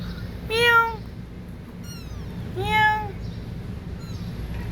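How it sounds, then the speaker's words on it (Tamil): A cat near a litter of newborn kittens by a house lets out two distinct, fairly close meows a couple of seconds apart, with a faint chirp between them over a low background hum. "நம்ம வீட்டுக்கிட்ட பூனை குட்டி போட்டிருக்கு எல்லா பூனையும் கத்தும்ல"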